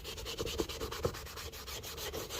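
A Scotch-Brite pad scrubs black paint off a Foxbody Mustang interior panel with a steady, rapid back-and-forth abrasive rubbing, close and fairly quiet, with no voices.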